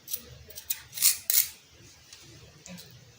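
Fabric scissors snipping through cloth for a flared gown with pocket, a few sharp close crisp cuts in quick succession, the loudest two near the middle, then softer trailing snips.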